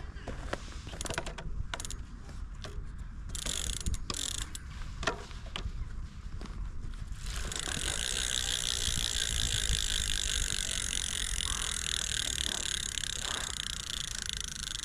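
A rusty bicycle wheel spins freely, first with scattered creaks and ratcheting clicks, then with a steady, close, continuous whirring tick as it keeps turning.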